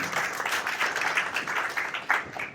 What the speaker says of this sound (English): I think one more round of applause before he goes on.